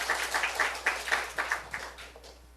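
Church congregation clapping during a Sunday sermon, a loose, moderately quiet burst of hand claps with rhythmic accents that thins out toward the end.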